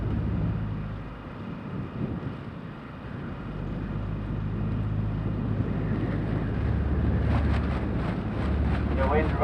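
Wind gusts across an outdoor juvenile cross country championship course, a loud, rumbling buffet on the microphone that rises and falls, with a voice speaking indistinctly beneath it and a short run of faint ticking near the end.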